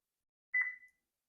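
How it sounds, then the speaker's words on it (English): A single short electronic low-battery beep from an ADT alarm system glass break sensor chirps once against silence. "So if you're getting that beeping noise"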